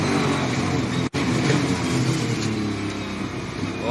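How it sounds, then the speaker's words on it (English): An LS V8 engine in an Innovation race car at Queensland Raceway is heard onboard, accelerating with a loud, steady mid-range roar and a very brief dip near the start, with no talk over it. "Oh, the LS power plant sounds sweet between the chassis rails, these innovation race cars."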